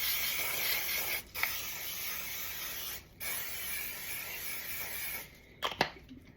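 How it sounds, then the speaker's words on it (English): Cooking oil sprayed from a can onto the bottoms of round cake pans, several long steady hissing bursts separated by short pauses and ending with a couple of light clicks, close and clear with no talking. "just take some spray cooking oil and lightly coat the bottom so the cake does not stick."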